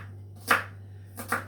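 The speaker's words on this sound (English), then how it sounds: "I'm going to chop this up" Two sharp knife chops land on a board, close and distinct, while vegetables are cut up for a stuffing mix; a steady low hum runs underneath.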